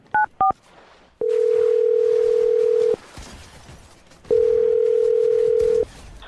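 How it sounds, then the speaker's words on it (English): A telephone dials out: two brief keypad tones, then two long steady tones separated by a pause, clear and close with little else around them. "I'm going to dial his phone number right now and see if we can figure it out for you"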